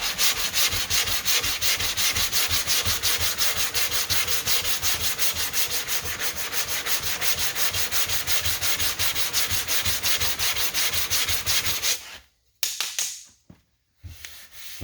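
Bondo body filler on a car body line is sanded with 80 grit sandpaper in rapid, evenly rhythmic back-and-forth scratching strokes, close and steady for about twelve seconds, then a few final strokes after a brief stop.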